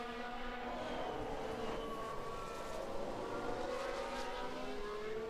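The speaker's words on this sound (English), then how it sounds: "there's like a glitch in the background of a car stuck on the pit limiter" Continuous buzzing engine drone from an F1 Manager 22 car stuck on the pit limiter, a steady faint whine with slowly wavering pitch and no talk over it.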